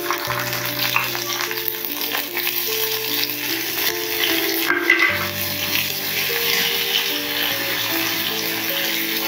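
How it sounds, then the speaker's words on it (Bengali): Ginger-garlic paste fries and is stirred in a pan, a continuous close sizzle with occasional scraping, under background music. "আদা রসুন বাটাটা ভালো করে কষিয়ে নেব।"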